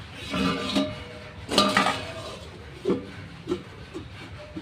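A metal lid set onto a cooking pot of thin tilapia, cauliflower and potato curry, with a few clattering knocks and clinks spaced out over several seconds, fairly close.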